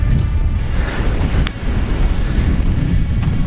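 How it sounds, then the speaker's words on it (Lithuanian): Strong, gusty wind at a volcano crater buffets the microphone in a loud, continuous roar with no talking. "Na, bet vėjukas tikrai ne 1 metro kaip rodė."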